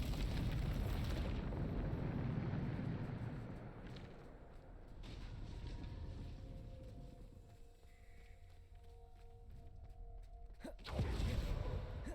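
A Bombarda spell explosion in the game Hogwarts Legacy, a heavy rumbling blast that rolls on for several seconds, dies down to a quieter hum, then ends with a sharp burst.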